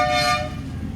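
Horn on a miniature railway train giving one sustained toot, loud and close, fading out by the end.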